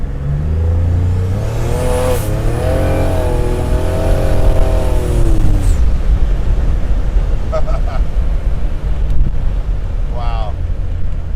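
A Buick Grand National revs hard during an outdoor burnout, the engine note climbing and holding at high pitch before dropping away into rushing wind-blown noise, loud and close.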